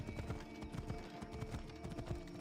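Horses in the video game Assassin's Creed Odyssey clop along at a steady trot, hooves beating a quick regular rhythm over a busy game soundscape.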